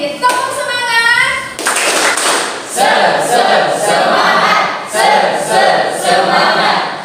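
Children in a classroom perform a rhythmic spirit clap in unison, bursts of clapping in short patterned groups alternating with a teacher's voice and the children's chanted responses.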